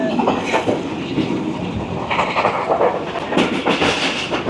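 The Rawal Express, a privately operated Pakistani passenger train, rumbles along with a steady rolling roar and faint clickety-clack of wheels on rails, heard from on board, with no speech.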